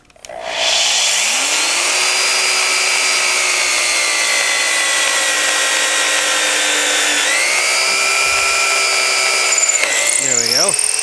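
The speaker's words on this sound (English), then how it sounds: "And so I'm going to take this drill and now drill a hole through to the hole we already drilled through." A power drill bores a hole through a bowling pin of wood with some plastic and metal inside, a loud steady whine running continuously for about ten seconds, its pitch dipping briefly near the end as the bit works through.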